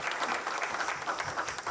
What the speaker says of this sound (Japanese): 皆様、盛大な拍手をありがとうございます